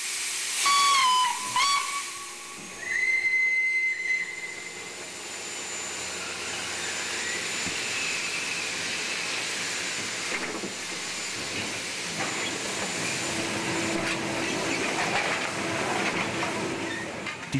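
A steam locomotive on the Prince-Henri railway in Luxembourg's ore-mining region sounds loud, shrill whistle blasts at the start, then releases a long, sustained roar of hissing steam close by.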